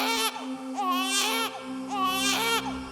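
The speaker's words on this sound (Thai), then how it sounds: "เสียงเด็กร้องลอยแว่วมาจากในป่าลึก" An infant cries in repeated wailing bursts with pauses between them, said to come from deep in a forest, heard fairly clearly over a steady low tone.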